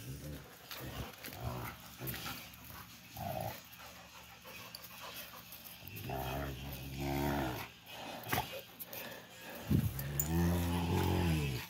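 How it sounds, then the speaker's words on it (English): Puppies wrestle and growl, giving rough snarls and panting sounds close by, with a person's voice talking over them. "Puppies like to wrestle too much."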